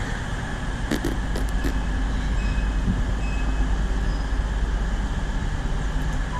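A train passes or pulls in with a steady, loud rumble and rail noise throughout, a few faint metallic clinks near the start, no voices.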